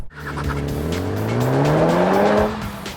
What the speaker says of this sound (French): un système qui donne le petit coup de gaz qui va bien au rétrogradage